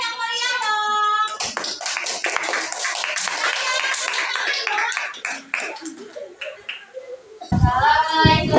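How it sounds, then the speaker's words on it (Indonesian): A classroom of children claps enthusiastically for a group of classmates, a dense, sustained burst of hand claps with kids' voices over it, fading into talk before a voice returns at the end. "Tepuk tangannya yang meriah dong."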